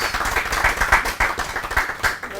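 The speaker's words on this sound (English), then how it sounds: "can you give a round of applause?" A church audience at a marriage talk bursts into brief applause, a dense patter of hand claps with distinct individual claps, fairly close and alone without talk.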